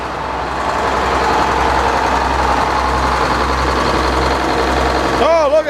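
A Frick sawmill's engine idles steadily with a low, continuous rumble as it is slowed down before shutdown, close and loud, with a brief rattling change near the end.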